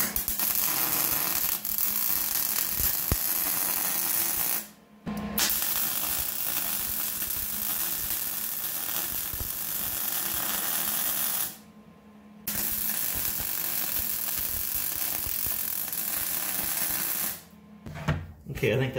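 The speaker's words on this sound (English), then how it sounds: "You're welding on a pretty thick metal there, so you gotta get a bit of heat into it so it bonds" Welding on thick metal for a cyclekart steering assembly: a steady, loud crackling hiss runs in long bursts, with brief pauses near five, twelve and seventeen seconds.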